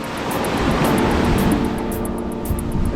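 Ocean surf on Seven Mile Beach, Grand Cayman, a steady broad wash of waves rolling in close by, loud and continuous with wind on the microphone and no voices.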